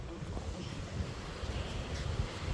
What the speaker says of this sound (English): See how that wind is?